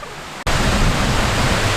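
A waterfall in the Faroe Islands roars in as a steady, dense rush of falling water that starts abruptly and stays loud and close, with no voices.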